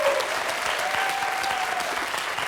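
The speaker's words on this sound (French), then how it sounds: "Bravo Olivier, très applaudi par toute la salle en plus" A studio audience at a French quiz show claps warmly after a face-to-face victory, with dense, even applause holding steady throughout and no break.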